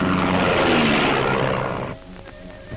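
An RAF search plane heads out to scan the sea, its engine a loud, close roar that holds for a moment and then drops off sharply as it pulls away.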